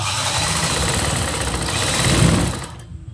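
An electric sewing machine stitches the side seam of a blouse, its motor whirring steadily and close for about three seconds before cutting off just before the end.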